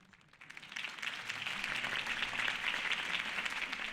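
A crowd applauds after a campaign speech for Harvey Dent in Batman: The Telltale Series. The clapping is dense and continuous, swelling quickly from a faint start and holding steady at a moderate distance with no talk.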